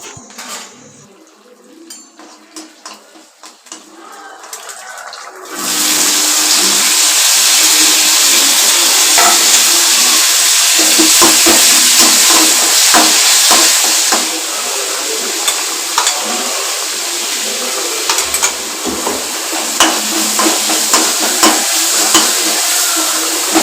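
Mustard seeds, cumin and curry leaves hit hot oil in a pan, bursting into a loud, continuous crackling sizzle after a few quiet seconds of light clinks, with scattered pops and utensil taps.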